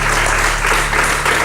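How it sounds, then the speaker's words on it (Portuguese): A television studio audience applauds for a daytime talk show, a dense wash of clapping filling the whole short stretch at close, even loudness. "Um aplauso para as 3"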